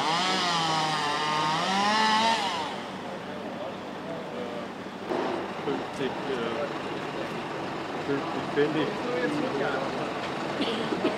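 A chainsaw is carried running through a village street during a local event, its engine droning loudly and steadily for the first few seconds before fading into a mix of crowd noise and street sounds.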